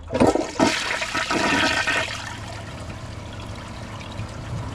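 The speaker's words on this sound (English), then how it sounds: "Here's a flush with a plugged siphon jet." A Kohler Highline Arc toilet with a plugged siphon jet is flushed with a press and release: a loud rushing gush at first, then a steady, quieter trickle and refill running alone.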